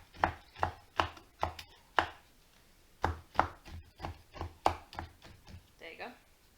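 A knife chops chocolate on a board into finer pieces, about fifteen sharp, close, evenly spaced strokes with brief gaps, one pause midway and no voice.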